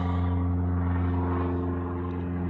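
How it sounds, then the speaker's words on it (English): A small propeller airplane drones steadily overhead near a little airport, its engine hum loud and continuous throughout. "I hear an airplane."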